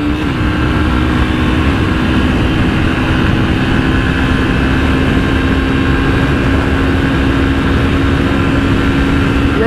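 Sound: Yamaha Fazer 250 motorcycle engine at top speed

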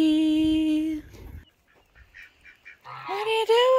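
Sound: hen vocalizing

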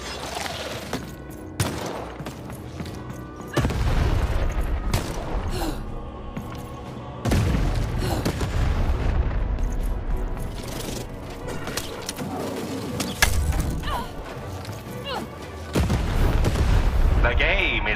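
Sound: cannon firing in a video game

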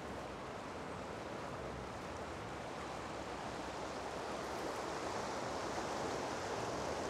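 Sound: Humber River flowing in Cruickshank Park, Toronto

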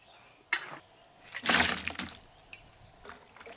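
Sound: scooping meat out of water with a slotted spoon

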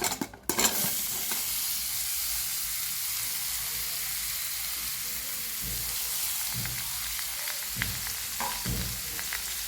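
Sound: grated mango stirred and fried with cinnamon and cloves

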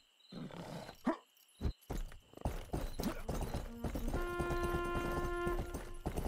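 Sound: horse hooves clip-clopping in a video game

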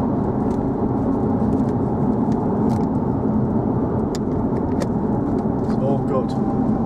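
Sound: 2005 Jaguar XKR supercharged 4.2 V8 accelerating on kick down

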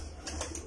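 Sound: pigeon cooing, Kamgar breed pair

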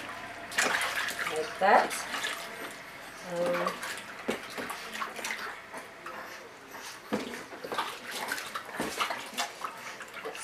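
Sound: water splashing while bathing a newborn baby

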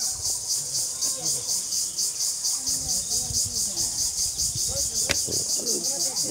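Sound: crickets chirping in daytime

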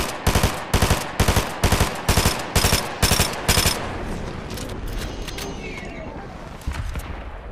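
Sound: gunfire in a video game

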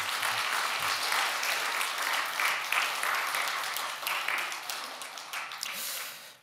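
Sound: congregation applause

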